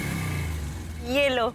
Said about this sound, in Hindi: आ गई पिंकी की बाइक पिंकी को लेकर।